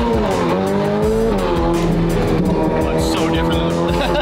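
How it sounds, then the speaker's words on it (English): A Ferrari F8 race car drives hard on a track, its loud engine note rising and shifting through gears with bursts of tire squeal, while a voice talks over the steady roar. "I'm driving a Ferrari."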